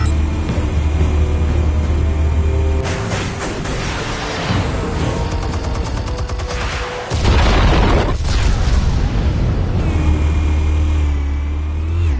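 Armed explosives going off in Batman: The Telltale Series, a loud booming blast with a crackling burst in the middle, set against a heavy low rumble that drops out and returns.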